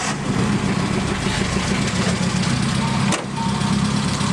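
An old car fitted with R32 Skyline GTR seats idles close by at a car auction, a loud, steady rumbling drone with a brief dip near the end, no voices over it.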